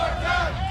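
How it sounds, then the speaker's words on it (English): Wrestling crowd at a PWA Born To Be Wild show at Leesburg Bike Fest chanting together, a brief, dense roar of many voices filling the space. "this sick crowd chanting one more time"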